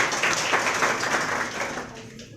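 An audience at a motivational seminar gives a burst of applause, a full, even clatter of many hands clapping that fades slightly toward the end.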